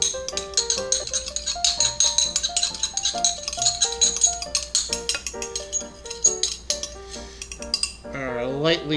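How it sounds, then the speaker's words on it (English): An egg being lightly beaten in a second bowl while making turkey meatloaf: fast, uneven clinks of a utensil against the bowl, close and fairly loud, running steadily over background music before fading near the end. "Actually, it's an egg that needs to be lightly beaten."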